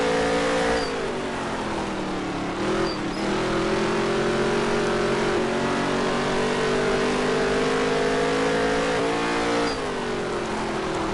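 A NASCAR dirt-track race car engine in the NASCAR Heat 3 video game drones loudly and continuously at high revs, its pitch dipping and rising through corners, with brief shifts in tone around other cars.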